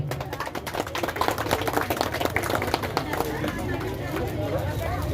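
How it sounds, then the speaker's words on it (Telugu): Audience applause at a free medical camp honouring ceremony, a dense steady patter of many hands clapping throughout, mixed with crowd murmur and some talking. "చప్పట్లు కొడదాం."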